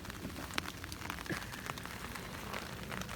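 Steady rain falling at a daytime campsite by a dam, with a dense patter of drops on surfaces and occasional louder splashes, continuous and close.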